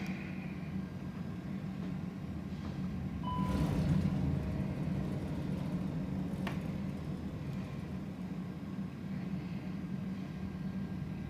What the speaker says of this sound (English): Reverses are in. Reverses are out. 60 knots, manual braking.